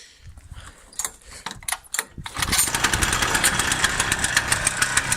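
A Gutbrod Motostandard two-wheel tractor is pulled over a few times and its small engine catches within seconds, then runs loud and close at a fast, steady putter.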